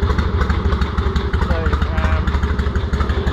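A revived Harley-Davidson Ironhead Sportster motorcycle engine runs steadily just after first starting, a loud, continuous rumbling idle with a rhythmic pulsing beat and some mechanical clatter throughout.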